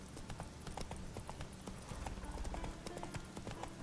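Horse hooves clip-clop in The Witcher 3: Wild Hunt video game, a rapid, continuous run of sharp hoofbeats close by, steady and fairly faint, with no talking.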